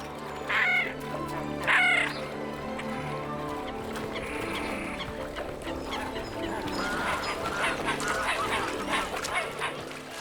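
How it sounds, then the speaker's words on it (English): Two sharp greylag goose honks ring out early, followed by a busy jumble of squabbling, cackling calls from fighting geese over constant outdoor background noise. "Everywhere grey-lag geese test their strength."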